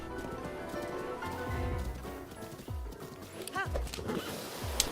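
A horse whinnies amid clopping hooves and game sounds at Hyrule Castle in The Legend of Zelda: Breath of the Wild, with a brief high chirping flourish near the end.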